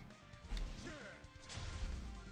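A grenade blast in an Android mobile game remake of an old title, a quiet, brief crash with a thudding low impact and scattered crackle afterward.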